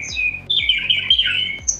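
AI-generated bird chirping sound effect from Adobe Firefly: a run of sharp, bright squawking chirps, about four distinct calls in quick succession, close and clear with no talk.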